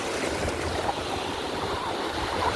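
Steady broadband wash of calm sea surf, continuous and fairly loud, with no distinct breaks between waves and no talking.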